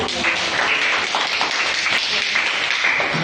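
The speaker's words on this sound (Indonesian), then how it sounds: "Kita kasih tepuk tangan dulu buat kita." Applause from a classroom of children, a steady dense patter of many small hands clapping together at close range, continuous and fairly loud throughout.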